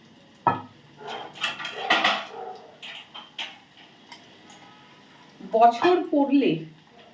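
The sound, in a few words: small steel bowls handled while straining onion oil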